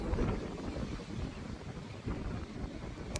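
Gusty wind buffets the microphone with a low, rumbling roar, rising and falling unevenly over a few seconds.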